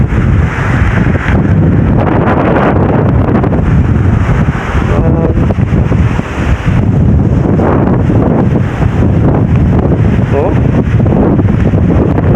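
Strong, roaring typhoon wind from Typhoon Kristine buffets the microphone continuously, with surging floodwater and waves beneath and a voice briefly calling out.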